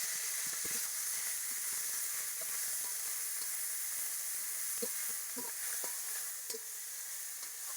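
Garlic paste fries gently in oil with dried chillies, making a faint continuous hiss and sizzle with scattered small pops and soft stirring clicks, quiet and close with no voices.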